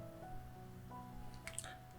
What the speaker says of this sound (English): Next, heat a tawa and pour some oil.